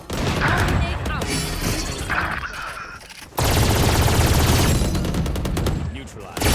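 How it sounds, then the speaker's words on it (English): Inside a video game, a swarm grenade sets off dense, crackling bursts of gunfire and explosions that nearly fill the whole stretch, with one short lull. Voices speak in the middle of the noise. "Swarm grenade out."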